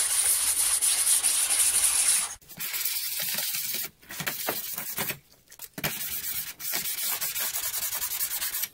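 Hedge trimmer blade teeth being sharpened by hand, a steady abrasive rasping and grinding that runs in long strokes, broken by several short pauses, close and fairly loud with no talking.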